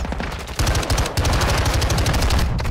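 Rapid automatic gunfire in the video game Modern Warfare 2, a dense, loud burst of shots with no pause, one brief break near the middle before the firing resumes.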